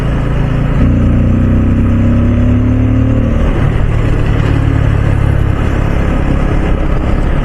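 A lorry on a road near a market passes with a loud, steady engine rumble and deep low drone, rising briefly as it goes by and continuing to fill the clip alone, with no voices.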